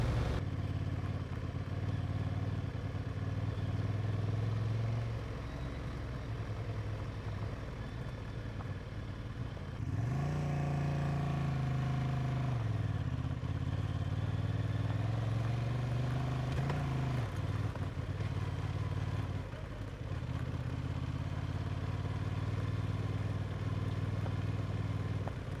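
A 2023 Honda Transalp XL750 motorcycle rides off-road on gravel in gravel riding mode, its engine humming steadily with rising and falling pitch as it shifts, amid crunching and rattling from the rough surface.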